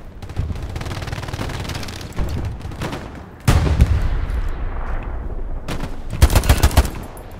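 Gunfire in the World War II shooter game Hell Let Loose, with sustained rattling machine-gun bursts and heavy sharp reports, loud and close, repeating in clusters over a steady battlefield rumble.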